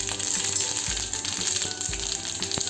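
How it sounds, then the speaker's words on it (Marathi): Cumin and mustard seeds sizzle and pop in hot oil for dal tadka, a continuous crackling hiss broken by sharp, irregular popping spurts, close and fairly loud, with no talking. "तर जसं की तेल गरम झालं त्यात आपल्याला जिरे आणि मोहरी घालायचे आहेत"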